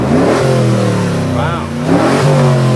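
A Rally Fighter with four catalytic converters, two mufflers and a live rear axle revs hard, its mid-pitched engine climbing and falling in a close, loud surge with voices talking over it.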